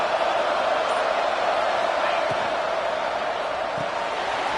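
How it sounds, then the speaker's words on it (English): A dense, roaring wall of stadium crowd noise fills an Oklahoma State football game against West Virginia, steady and loud throughout, with no single voice standing out. "listen to this crowd noise. This stadium is vibrating."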